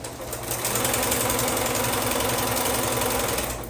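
A sewing machine runs steadily while stitching a quilt block, a loud, close, continuous mechanical whir with a fast regular rattle, starting and stopping smoothly at either end.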